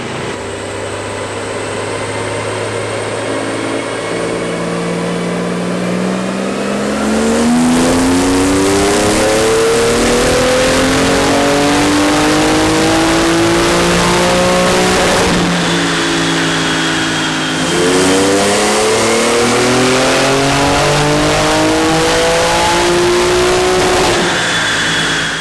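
A tuned 2021 Porsche 911 Turbo S (992) engine revs hard on a dyno and repeatedly climbs through the gears under load, loud and close, with brief lifts between sustained pulls.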